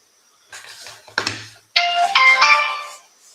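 A phone line being dialed to reach a sales lead, giving electronic tones: a short beep, a brief burst, then a bright, steady multi-tone chime stepping up in pitch, clear and close with no talk.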